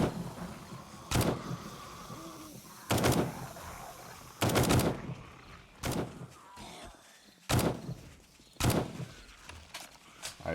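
Assault rifle fire in the survival video game 7 Days to Die, heard as six separate loud bursts spaced a second or two apart, with quieter game ambience between them.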